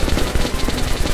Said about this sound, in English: We've got a minigun after all.